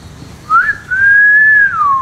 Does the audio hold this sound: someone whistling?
yes